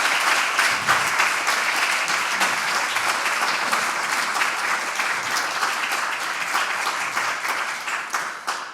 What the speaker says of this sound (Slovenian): dajmo še en aplavz, prosim